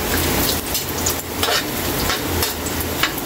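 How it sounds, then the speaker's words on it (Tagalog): Sliced ginger frying in a pan, a steady crackling sizzle with scattered pops and stirring scrapes, close and fairly loud with no talking. "Mag brown konti yung luya natin, tsaka natin ilagay yung bawang."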